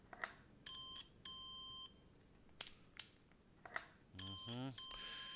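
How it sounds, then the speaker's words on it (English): In Car Mechanic Simulator 2021, an electrical multimeter test sounds a run of sharp electronic beeps and tones, some sustained and some repeating in a rising sweep near the end, with faint background noise between them. "let's just run the electrical multimeter test"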